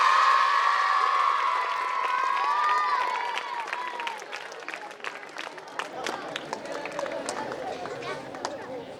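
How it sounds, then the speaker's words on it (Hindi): Children at a Navodaya Vidyalaya alumni meet in Mandsaur clap loudly in welcome. A voice speaks at the start, then a scattered round of clapping and crowd chatter carries on. "एक बार जोरदार तालियों से बच्चों स्वागत हो जाए।"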